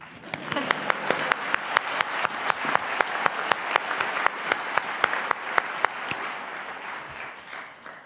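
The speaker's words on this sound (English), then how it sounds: "You can clap, it's fine." A university engineering convocation audience at Dalhousie applauds as graduates rise: steady, full-room clapping with sharp individual claps popping out above the wash, sustained for about eight seconds before easing slightly.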